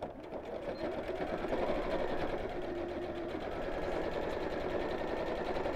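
A sewing machine stitches the side of a simple fabric purse, running continuously at a steady close whir throughout.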